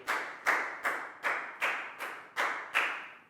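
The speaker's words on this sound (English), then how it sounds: "Big round of applause for Nadia" A Year 4 class gives a pupil a round of applause: eight evenly spaced, fairly soft claps in a steady rhythm, like a single group clapping in unison in a classroom.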